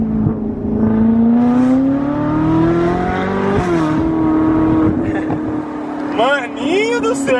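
A Ferrari engine accelerates and revs, a steady loud drone whose pitch climbs, dips and climbs again. Someone talks over it near the end.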